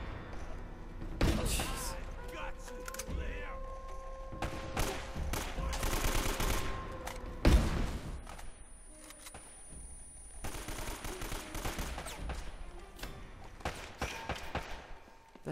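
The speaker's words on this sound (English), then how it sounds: "this is an intense gunfight in this room" Intense indoor gunfight in the video game Uncharted: Drake's Fortune, bursts of automatic rifle fire and sharp single shots in irregular clusters with thuds and impacts, loud and close, with a voice talking over parts.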